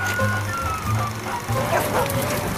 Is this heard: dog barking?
yes